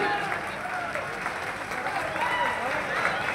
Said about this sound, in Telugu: అటువైపు అందరూ మీరు గట్టిగా చప్పట్లు కొడితే ఈ పండుగ మరింత ఆనందమయంగా ఉంటుంది.